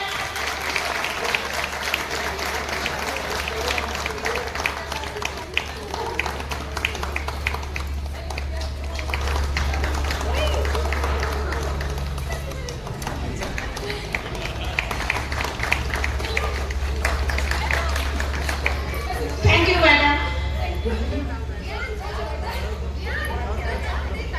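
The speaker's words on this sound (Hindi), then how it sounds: "एक बार जोरदार तालियां हो जाए।" A crowd at a Ganesh idol immersion ceremony claps in loose, scattered applause under a steady low hum and chatter, with a person speaking over it and a brief louder burst near the end.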